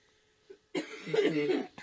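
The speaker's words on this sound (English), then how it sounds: "I still have this cough." A single rough cough bursts out close by after a faint tone, rasping for about a second.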